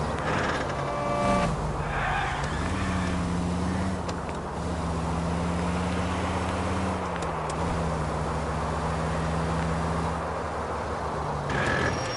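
Car in the video game L.A. Noire, a steady engine drone with shifting pitch as it drives, plus brief creaking and tire-scrub noises and a mechanical clatter near the start and end.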